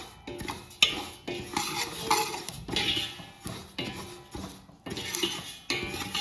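Flaxseed is roasted in a large pan over the flame and stirred with a spatula, giving repeated scraping strokes and clinks with a faint crackle beneath, close and rhythmic.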